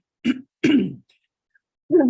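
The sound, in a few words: coughing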